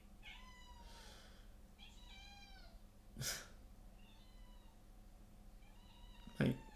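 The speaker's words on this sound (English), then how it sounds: "My cat obviously has some things to say." A cat meows several times, drawn-out and wavering, with two sharp louder noises breaking in over a quiet background hum.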